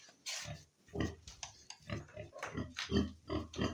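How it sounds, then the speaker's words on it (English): Young piglets about a week old on a pig farm in Liberia grunt in a steady run of short, close, rhythmic snorts and oinks, several overlapping calls with no voices over them. "This is our other piglets."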